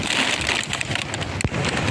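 Heavy rain pours steadily onto a flooded street in Kaneshie, a dense, constant hiss of drops hitting water at close range, broken by one sharp splash or crackle near the end.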